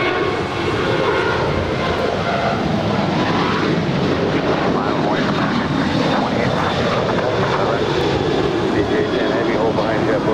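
Lufthansa Boeing 747 arriving to land on runway 24 right at Los Angeles airport, a loud, steady, broadband jet engine roar holding throughout, with a voice talking over it.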